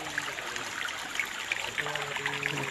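Shallow creek water trickling over stones at the edge of a stream, a steady soft babble, near and continuous, with faint low hum in the background.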